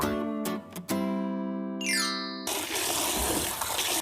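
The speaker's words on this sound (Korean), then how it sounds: "딸기 깨끗하게 씻어 주었고요." Fresh strawberries washed under running water, a steady broadband splashing rush in the last second and a half, preceded by sustained tonal background music.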